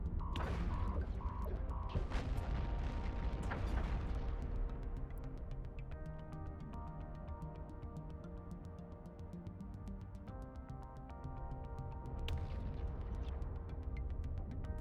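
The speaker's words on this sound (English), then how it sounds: "they're shooting me up already" A spaceship taking weapons fire in EVE Online: heavy crashing impacts and booms early on, fading into a steady low hum with tonal drones and occasional hits, fairly quiet throughout.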